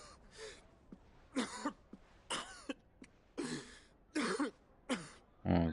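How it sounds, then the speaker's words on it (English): Joshua, a character in Final Fantasy 16, coughs up blood in a run of harsh, wet coughs and throat-clearing bursts, six or seven spaced fits over several seconds, close and fairly loud against a quiet background. "He's coughing up blood."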